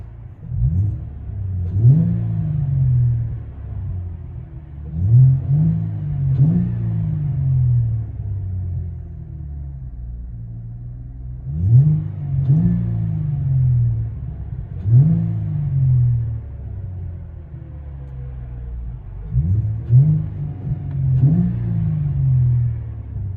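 A 2012 Cadillac CTS with a 3.6L V6 and quiet flow exhaust revs repeatedly, heard from inside the cabin: about six rising engine sweeps in pairs over a steady low rumble, with no talking.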